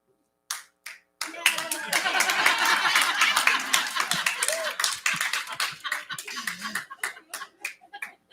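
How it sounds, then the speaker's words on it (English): An audience at the Ahava CSL spiritual center breaks into a burst of hand clapping that swells and holds for several seconds, mixed with chuckles and light laughter, then thins into scattered claps. "boys, you can clap too"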